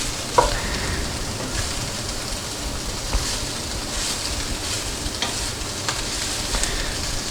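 Kale cooks in a pot of bean and pasta soup, giving a continuous steady sizzle and bubbling close by, broken by a few light clinks and stirring taps.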